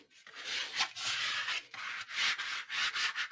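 Paper pressed into a 10 x 10 album is burnished by hand, giving soft, quick rubbing strokes in short irregular bursts, close and fairly quiet, with no voices.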